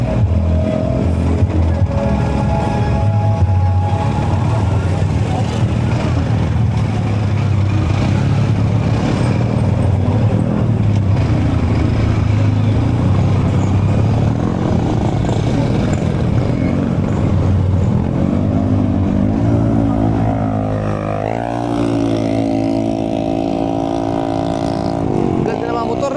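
Motorcycles pass along a busy street during a lively outdoor activity, their steady engine rumble running continuously close by with occasional revving swells, mixed with crowd noise and people talking.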